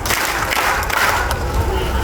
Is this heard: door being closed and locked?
no